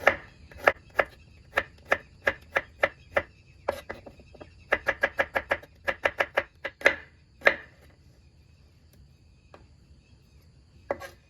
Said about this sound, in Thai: กระเทียมเนี่ยเราจะหั่นเป็นแว่นค่ะ แบบนี้นะ